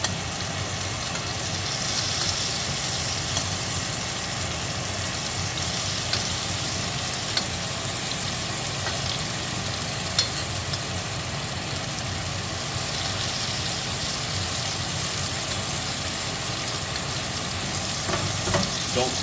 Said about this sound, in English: We're going to tilt our pan and we're going to baste the top